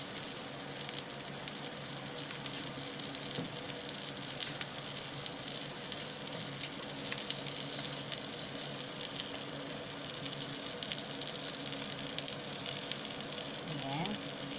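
Tuna sisig from canned tuna sizzling in a pan, a steady soft crackling hiss throughout, fairly faint, with a person talking over it.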